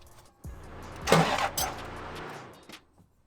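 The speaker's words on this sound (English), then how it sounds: "So I put the battery back in and I'm gonna crank it and hopefully it breaks it loose" A Lexus LS400 engine gets a short crank on the starter to break the crank bolt loose, giving one loud whirring burst with a sharp jolt partway through, then winding down to silence.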